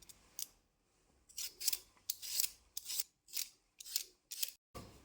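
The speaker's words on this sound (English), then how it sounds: "Now I'm going to peel my potato." A potato being peeled by hand: a series of about eight short, crisp scraping strokes up close, each separated by a brief pause, with no one talking.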